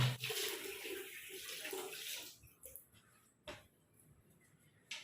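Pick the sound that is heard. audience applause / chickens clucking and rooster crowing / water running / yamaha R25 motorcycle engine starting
water running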